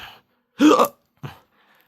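A cartoon girl hiccups in short, sharp voiced bursts: one louder hiccup followed by a smaller one about half a second later, in an otherwise quiet background.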